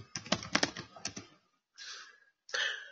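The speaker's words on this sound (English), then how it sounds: "Just type in." Keys clatter on a computer keyboard in a quick burst of clicks, followed by two short hissing bursts.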